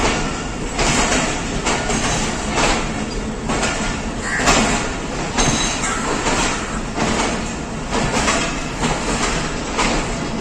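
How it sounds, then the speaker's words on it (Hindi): A Pakistan Railways Shah Hussain Express passenger train runs along steadily, its loud continuous rumble and rattle broken by a regular beat of wheel clatter over rail joints, with no talk over it. "43 अप शाह हुसैन एक्सप्रेस।"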